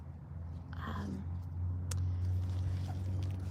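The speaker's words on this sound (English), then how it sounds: "Sorry for the road noise." Steady low rumble of passing road traffic fills the background, a continuous drone near and constant with a faint brief hiss of a vehicle going by.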